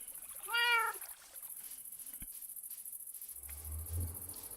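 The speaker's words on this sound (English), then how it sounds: "you're hearing my cat over here" A house cat gives one clear, close meow over a steady high cricket-like chirring, followed by a soft thump and a low rumble.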